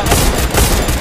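Rapid gunfire in a competitive tournament shooter match, a dense fusillade of loud, close shots running continuously through the whole second.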